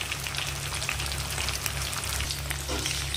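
Pomfret fish frying in hot oil make a steady, close crackling sizzle that runs throughout with no one talking.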